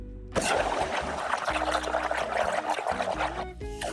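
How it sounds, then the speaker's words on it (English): Water poured and trickling over a dirty part of a 1980 Triumph TR7 during detailing, a steady splashing flow lasting several seconds at close range, then briefly thinning out near the end. "now I just need to put in some water, maybe WD-40"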